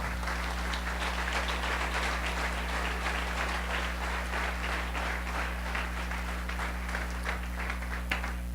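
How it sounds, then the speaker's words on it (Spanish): Steady crowd applause fills a church service after a preacher calls for a round of clapping for the king, dense and continuous, with a constant low electrical hum underneath. "Denle un aplauso al rey si lo está entendiendo."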